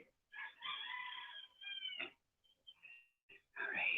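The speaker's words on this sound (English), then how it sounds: "I have a rooster walking right through the yard." A rooster walking through a yard, giving a couple of strained, harmonic crowing and squawking calls near the mic, with quieter short clucks and pauses between them.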